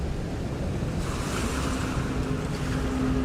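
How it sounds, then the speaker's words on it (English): Ocean waves wash in a steady broad surf with wind across the microphone, continuous and fairly close, the wash swelling after the first second. "As soon as the MV begins, you hear the sound of the ocean"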